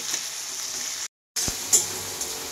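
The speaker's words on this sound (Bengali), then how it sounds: "এইভাবে আমি টমেটো আর পেঁয়াজটাকে এবারে ভালোভাবে ভাজবো" Tomato and onion frying in oil in a pan, a steady close sizzle broken by a brief silent gap, with a few stirring scrapes and clicks.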